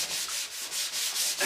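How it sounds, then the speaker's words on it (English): A Scotch-Brite pad scrubs old paint on a metal fuel tank from a 1976 Mazda RX-5 Cosmo, a steady rhythmic rasping in close, even back-and-forth strokes. "I'm just scrubbing the existing paint down with a Scotch-Brite to kind of break the glaze"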